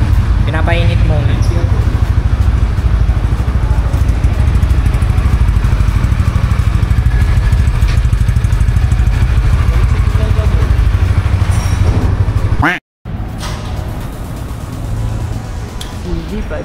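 A Motovin Winner X motorcycle engine idles while warming up, a steady low rumble throughout with speech-like noise over it and a brief cutout near the end before the idle resumes.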